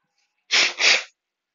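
A single loud, close sneeze from someone with allergies, a sharp two-part burst in quick succession, breathy and explosive, with silence before and after.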